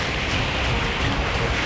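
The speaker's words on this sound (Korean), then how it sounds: "파도가 엄청나요 지금." Strong open-water waves churn steadily during a swimming race, a dense broadband wash of surf and wind noise with no pause across the short stretch.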